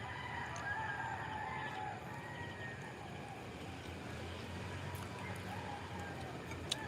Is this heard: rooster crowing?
yes